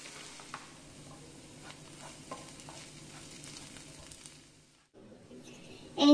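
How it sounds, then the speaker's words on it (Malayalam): Green chilies and chopped capsicum stirred and sautéed in a pan give a soft, steady sizzle with light scraping stirs. It is fairly quiet, drops out briefly near the end, then returns louder. "ഇനി ഇതൊരു 3 മിനിറ്റോളം വഴറ്റാം."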